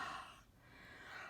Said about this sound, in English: So I'll just breathe on it.